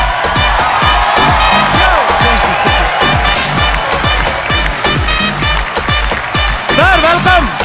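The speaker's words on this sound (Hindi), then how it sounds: "जोरदार तालियों से स्वागत कीजिए सलामी बल्लेबाज वीरेंद्र सहवाग का" Studio audience at a Kapil Sharma Show comedy taping applauding and cheering to welcome opening batsman Virender Sehwag, a loud sustained wash of clapping with whoops, steady throughout with a brief voice near the end.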